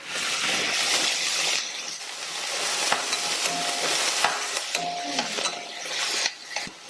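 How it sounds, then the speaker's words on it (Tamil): Small onions, dried red chillies and sliced garlic sautéing in oil in a pan: a bright continuous sizzle with intermittent scraping and clicking of a stirring spoon, close up, no talk. "சேர்த்த வெங்காயம் லைட்டா வதங்கிடுச்சு"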